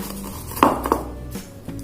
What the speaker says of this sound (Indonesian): Nah, kita ulek dulu ya teman-teman, karena sama aja sih, diulek sama diparut.